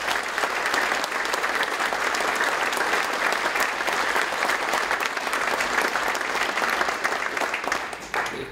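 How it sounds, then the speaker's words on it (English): Audience at a fire department awards ceremony applauding, a dense sustained clapping that holds steady for several seconds before tapering near the end. "If we give them a round of applause for the countless hours they've done."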